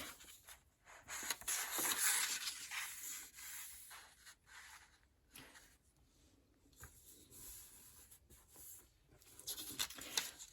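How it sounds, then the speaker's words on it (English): Paper is folded over and creased by hand for an art booklet, faint soft rubbing and sliding strokes in uneven bursts, quiet and close with no talking. "you're going to fold the paper over"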